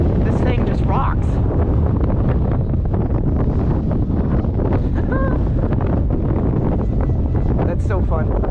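Strong wind buffets the microphone while a model aircraft is flown outdoors, a loud, continuous roar that fills the whole stretch with brief chirps riding on top.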